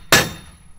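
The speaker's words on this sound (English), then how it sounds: "I'm gonna give it a couple more good whacks." A single sharp, loud metallic whack of a hammer driving a truck bed kayak rack into place, ringing briefly before fading.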